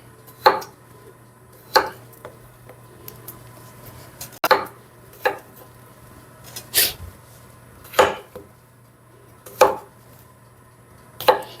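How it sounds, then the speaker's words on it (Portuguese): Knife strikes against a cutting board in slow, irregular single chops while cutting potatoes into wedges, about nine in all, close and crisp with quiet pauses between them. "Eu vou cortar aqui a batata aqui em gomos"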